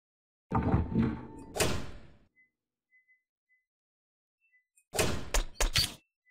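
A door shifts into place in The Nightmare Before Christmas PS2 game: a heavy, rumbling scrape with a thud, then near silence, then a tight cluster of sharp knocks and scrapes near the end.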